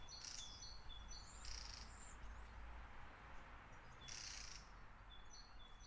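Starlings calling in a quiet winter countryside: two or three short bursts of bright chirps and whistles at moderate distance over a low, steady background hum.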